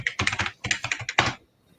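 Rapid clattering keystrokes on a computer keyboard, close and crisp in quick bursts with brief pauses, ending abruptly in near silence.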